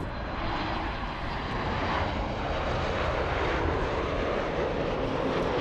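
An Air Premia Boeing 787 Dreamliner airliner takes off, its jet engines producing a steady, loud broadband roar that holds throughout without speech.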